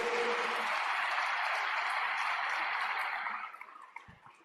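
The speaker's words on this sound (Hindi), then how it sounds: "मैं बहुत बहुत दिल से चाहता हूं एक बार आप तालियां बजाएं" Audience at a public launch event for a water conservation campaign applauds in a steady, fairly distant wash of clapping that fades out toward the end.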